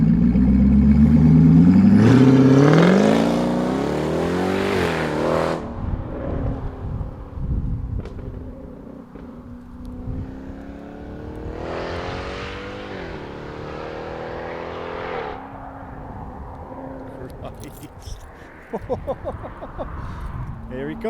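A 670bhp Jaguar XFR-S makes flybys. The engine swells loudly and roars past early on, then fades, and a second pass rises and falls further off. Rumble and clatter trail away at the end.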